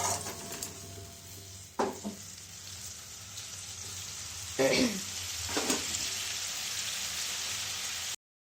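A fish curry with shrimp and a large fish bubbles and sizzles softly in a pan, a faint, continuous simmer broken by a few louder stirring clatters.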